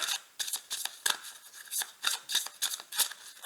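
Tarot cards being shuffled and drawn, heard as a quick run of close, crisp riffling and sliding swishes in irregular bursts, with quiet gaps between them.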